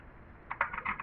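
A Rubik's cube, sounding much like a 2x2, is turned in a short burst of close, dry plastic clicks, several quick clacks in a row over faint background hiss.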